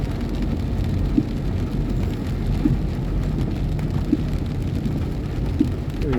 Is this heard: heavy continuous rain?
yes